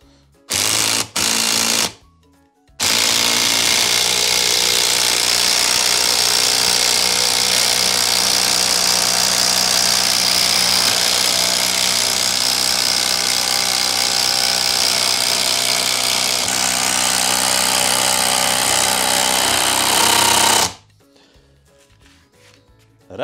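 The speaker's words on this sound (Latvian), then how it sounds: "Redzam, ka skrūvi esam ieskrūvējuši. Šis skrūvgriezis to ir paveicis." A screwdriver powers a screw into stacked wooden beams, joining three timbers together; a loud, steady motor whine runs continuously for about eighteen seconds after a couple of short bursts, then cuts off.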